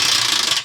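Rapid ratchet clicking while removing U-bolts from an enclosed trailer's suspension, a quick close burst of pawl clicks lasting under a second.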